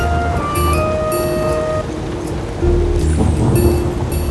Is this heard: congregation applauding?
no